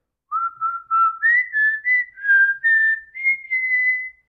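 Rajinikanth whistles a melodic song tune in the Coolie teaser, a clear solo whistle of gliding, sustained notes in short phrases, loud and close with no other sound.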